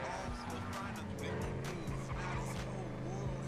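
Car chase in Grand Theft Auto V, engines revving with tire squeals and skids in quick bursts, players talking over the game sounds.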